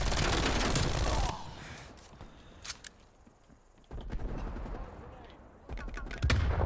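Bursts of gunfire in Call of Duty Cold War multiplayer on Nuketown, loud clusters at the start, middle and end with quieter gaps between, the shots sounding somewhat distant.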